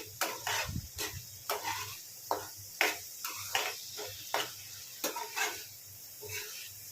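A spoon works through rice mixed with roasted cumin powder in a pan, making repeated scraping strokes at an irregular rhythm, close and fairly quiet, over a faint sizzle.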